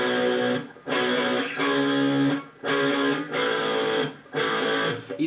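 Strummed guitar chords play alone in four sustained bursts with brief gaps between them, the distorted strings ringing loud and full.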